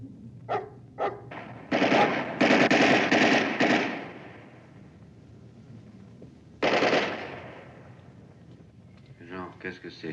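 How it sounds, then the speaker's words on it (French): Rapid bursts of gunfire crackle at night outdoors, a few isolated shots followed by a long dense volley, then another burst after a pause, with a faint voice near the end. "C'était des coups de feu?"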